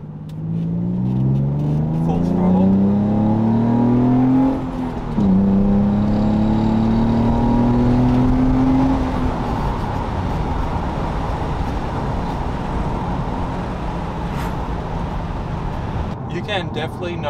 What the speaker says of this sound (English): Do another acceleration here in second gear.